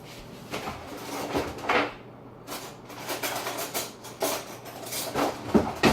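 Plastic container of vegan protein shake powder being opened nearby: a run of scraping, rattling and clicking handling noises over several seconds, a brief quiet gap midway, then more rustling and knocks.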